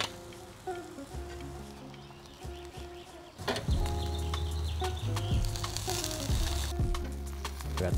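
Chicken wingtips and carcass from two whole chickens, with negi, grilling for yakitori tare, giving a steady crackling sizzle with scattered pops that grows louder partway through, close and continuous with no talk.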